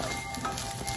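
Bacon sizzling and frying in a pan, a steady close crackle with no talk over it.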